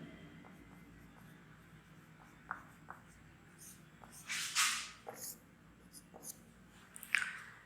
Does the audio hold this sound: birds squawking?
no